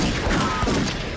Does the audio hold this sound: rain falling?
no